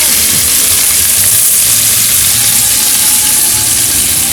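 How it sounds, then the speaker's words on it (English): Steady, loud sizzling hiss of sliced fish frying on a coal pot, continuous throughout with a low rumble underneath. "Frying some chicken, some what? Fish, sliced fish on the coal pot."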